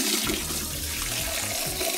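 Tap water pours steadily into a jug, a loud, close, continuous gushing rush that fills the whole moment.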